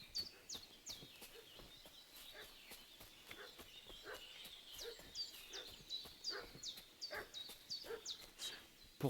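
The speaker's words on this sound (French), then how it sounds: "Pourquoi ce chien fait-il tout ce raffut?" A dog barks again and again in the medieval video game Kingdom Come Deliverance 2. The sharp, moderately distant barks come in a steady rhythm over chirping birds and a soft outdoor background.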